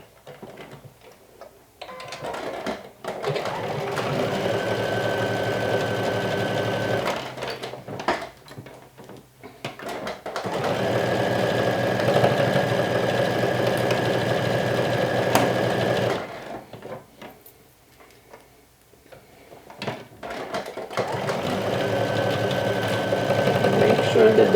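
A sewing machine stitches fabric down in three steady bursts of fast, rhythmic needle clatter and motor hum, close by, with short pauses and handling sounds between runs.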